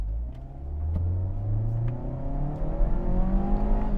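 Mazda 2 Skyactiv-G hatchback pulling hard in first gear from a standstill, engine note climbing steadily in pitch toward the rev limit, heard from inside the cabin with a low rumble and no talk.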